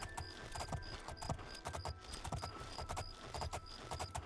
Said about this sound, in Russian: Кони пасутся.